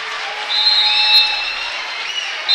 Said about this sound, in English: give these starters a big round of applause for Blackcat